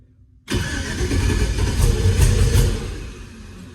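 An LS-swapped car engine cranks on its first start attempt after the fuel pump is switched on, bursting in suddenly after silence and churning loud and close for about three seconds before starting to fade.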